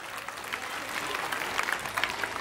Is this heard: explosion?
no